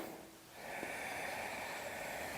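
A single slow, faint breath, like a soft snorting inhale through the nose, drawn during a gentle yoga wrist stretch in a quiet room.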